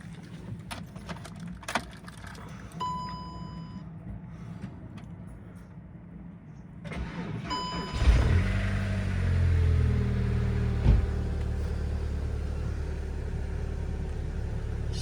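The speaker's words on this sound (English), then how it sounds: "let's get this car up and running" Engine of a VW MK5 GTI cranking and catching at about eight seconds, then settling into a steady low idle rumble with a brief rev spike, after quieter clicks and workshop noise.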